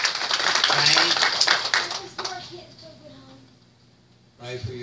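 A church congregation clapping for the Lord during a testimony service, a lively burst of handclaps that fades out over a couple of seconds, followed by people talking near and quiet.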